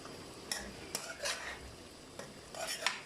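A spoon stirs chicken karahi in a pan, scraping and clinking against the metal in several short bursts over a soft background sizzle, close and quiet, with no talking.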